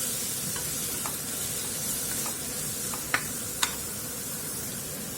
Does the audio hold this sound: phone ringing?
no